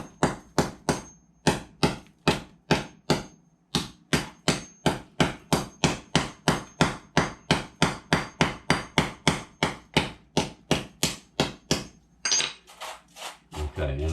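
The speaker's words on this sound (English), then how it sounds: "just chip out this super thin concrete that's around that until you get your bolt holes out" Rapid, evenly spaced hammer blows chip away thin concrete around toilet bolt holes in a barndominium restroom, dozens of sharp close strikes in a steady rhythm, ending in a brief scraping flurry.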